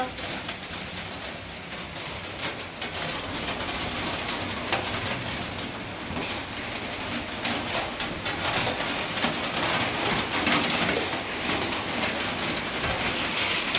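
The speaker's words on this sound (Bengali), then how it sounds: "কি অবস্থা, এত বৃষ্টি জীবনে আমি দেখিনি।" Heavy rain mixed with hail pours down in Bangalore, a dense, continuous hiss of drops and pattering impacts filling the scene at steady volume throughout.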